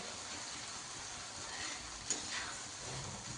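Crushed green chili and garlic thecha fries in a pan, making a soft, steady sizzle with faint stirring scrapes, quiet and close with no talking.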